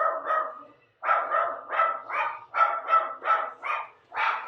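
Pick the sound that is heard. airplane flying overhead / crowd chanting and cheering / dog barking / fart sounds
dog barking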